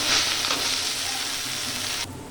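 Chopped ginger and curry leaves fry in hot oil in a pan, a loud, dense, continuous sizzle up close that drops off abruptly near the end.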